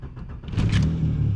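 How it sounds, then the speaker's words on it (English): A cheap used car bought off Facebook Marketplace cold-starts: a brief starter whir catches into a steady, close idle rumble that settles and holds, no voices over it. "Starts right up. Cold start as well."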